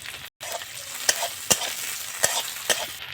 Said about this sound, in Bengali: তেলটা গরম হয়ে গেছে, পেঁয়াজ দিয়ে দেবো, লঙ্কা দিয়ে দেবো, কাঁচা লঙ্কা।